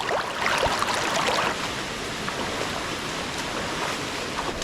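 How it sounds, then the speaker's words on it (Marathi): A river stream near Siddheshwar waterfall rushes steadily, a broad continuous wash of flowing water, slightly louder at first, with some wind buffeting and no voices. "थोडं समोर आल्यावर एक नदी लागत आहे"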